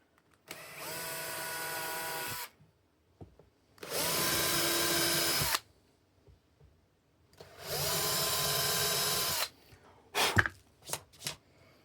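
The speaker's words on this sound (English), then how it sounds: "And then we go with the drill bit." Power drill fitted with a 3/16 bit boring holes for mounting IKEA drawer rails: three separate whining bursts of about two seconds each with quiet pauses between, followed by a few short sharp knocks.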